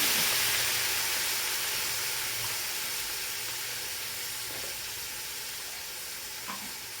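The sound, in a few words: sautéing country chicken curry ingredients in oil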